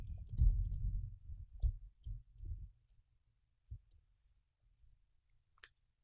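Typing on a computer keyboard while entering an HTML form action, with a few soft clustered clicks and low thumps early, then sparse faint taps trailing into near silence.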